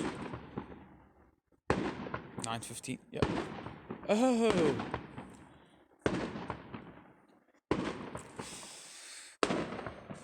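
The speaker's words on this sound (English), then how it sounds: "There go the fireworks." Fireworks bursting outside on New Year's Eve, a series of sharp, loud cracks and booms arriving in irregular bursts with crackling and a rising whistle between them, while a few people talk nearby.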